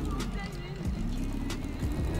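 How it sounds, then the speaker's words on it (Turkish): A Tofaş Doğan SL idles in the Assetto Corsa racing game, a low steady engine hum heard under someone talking. "Araba rolanti de çok güzel zaten. Şöyle bir dinleteyim size hafiften böyle."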